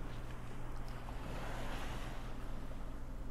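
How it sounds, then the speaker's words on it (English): Stormy ocean waves roll and wind rushes in the Pirates of the Polygon Sea video game, a dense, continuous roar of surf with no pauses. "Big wave. Whoa, we went into the water there. Looks like we're coming into a storm."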